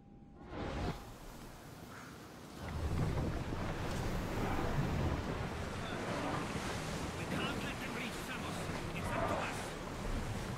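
A sailing ship at sea in Assassin's Creed Odyssey, with a steady rush of waves and wind washing loudly and continuously around the vessel, beneath game voices.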